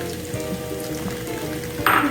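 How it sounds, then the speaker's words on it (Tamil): Small onions (shallots) sizzle in hot oil in a kadai for a chickpea kurma, with a brief, steady crackle and a sharper spit near the end. "வடச்சட்டியை அடுப்பில் வச்சு எண்ணெய் கொஞ்சம் ஊற்றியிருக்கிறேன் இதில் வந்து இப்போ நம்ம சின்ன வெங்காயத்தை ஆட் பண்ணிக்கலாம்"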